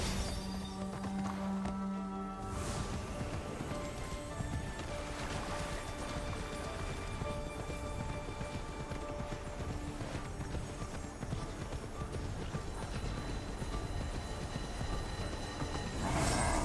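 Horse hooves clip-clop in a steady galloping rhythm in the video game Immortals Fenyx Rising, sounding continuously and fairly loud against a dense, full game soundscape with no talk.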